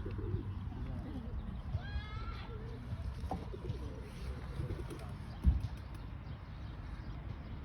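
Soft pigeon coos sound among faint chirps and rustling in a quiet space, with a brief knock partway through.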